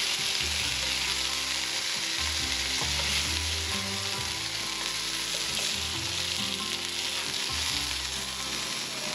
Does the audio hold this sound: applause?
no